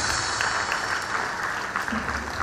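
An audience at a magic show applauds, producing a dense, continuous wash of clapping that holds steady for a couple of seconds.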